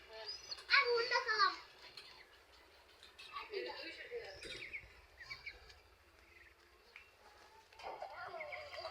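Pigeon chicks give a brief burst of thin, high chirping calls near the start, then fainter cheeps later, with people talking over and between them.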